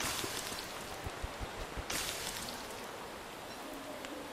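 Rain falls in the video game Don't Starve Together, a soft steady patter with a few brief louder swells, faint and continuous with no talk.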